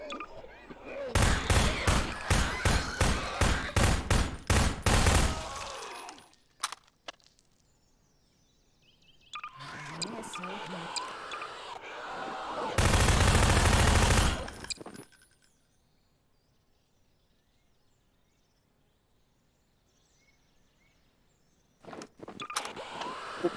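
Garry's Mod gunfire aimed at a character's head: a rapid, loud burst of repeated shots, then a second noisy stretch and another sustained blast, with quiet gaps in between.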